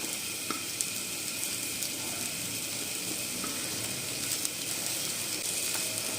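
Onions frying in hot oil for an aloo snack, giving a steady, even sizzle and crackle that holds throughout with a few faint clicks and no voices.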